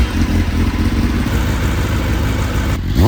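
A 2021 Kawasaki ZX10R sport bike, rebuilt and still throwing an air injection error code, idles loudly nearby with a steady, lumpy engine rumble, its pitch shifting briefly near the end.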